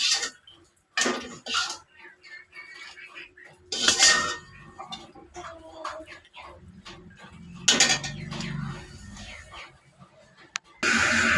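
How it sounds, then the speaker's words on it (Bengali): Egg bhuna is scooped out of a pan with a metal spoon in several sharp clinks and scrapes, separated by quieter stretches of faint shuffling and a brief low murmur. "এখন আমি ভুনাটা তুলে নিব।"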